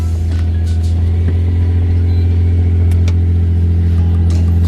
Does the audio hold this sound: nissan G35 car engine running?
yes